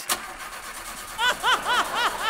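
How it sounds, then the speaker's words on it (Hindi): A car engine starts in a comic sketch set on a farm where the engine also pumps water to the fields. Several rising, whining cranks repeat quickly at close range, with a sharp click at the start and voices nearby. "एक सेकंड जरा गाड़ी स्टार्ट कर लो मैं"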